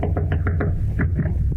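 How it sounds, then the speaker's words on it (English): Knocking on an apartment door in a dark corridor, about eight sharp raps in two quick bursts, close and fairly loud over a low background hum. "So you knock again."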